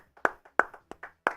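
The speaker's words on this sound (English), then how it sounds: "Clap it up for Sherry May." Hands clap a few times during a live sports talk show, about four sharp, close claps at an uneven pace with softer taps between them.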